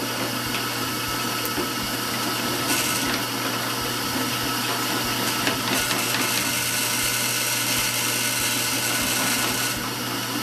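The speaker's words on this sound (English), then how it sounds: "after we drill the holes, we want to deburr it," A power tool whirs steadily at close range, deburring and countersinking drilled holes in a metal tucking fork, with a constant grinding, high-pitched hum and small bursts of cutting noise, no voices.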